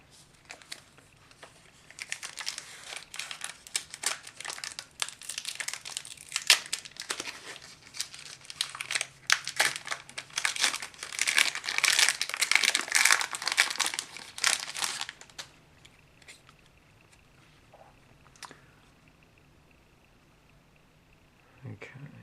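Crinkly foil wrappers of Magic The Gathering Tenth Edition booster packs rustle and tear close up, bursts of crackling that swell and continue for about thirteen seconds before fading to quiet with a few faint handling sounds.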